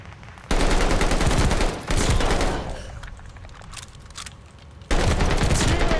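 Call of Duty Vanguard gunfire arrives as loud, dense bursts of rapid shots, with a quieter stretch of scattered pops between two sustained volleys, and no one speaking.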